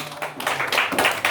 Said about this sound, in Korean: Why don't you clap your hands unto 우리 Jesus?